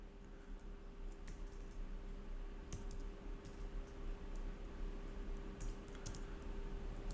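Code is typed on a computer keyboard, with soft, faint key clicks coming in uneven bursts over a steady background hum.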